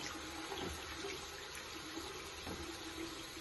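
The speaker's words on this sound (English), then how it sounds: "Keep one arm under the flow of water." Tap water runs steadily into a sink as hands and arms are washed under the flow, a continuous broadband splashing rush with no voices.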